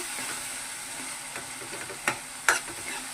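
Spoon stirring chili powder into an eggplant and raw mango curry in a pan, a soft continuous sizzle with a few sharp scrapes and clinks near the end.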